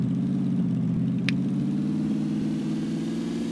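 A car engine runs steadily in the game PUBG, a continuous mid-pitched drone that holds constant throughout, close and fairly loud, with one brief high tick near the middle.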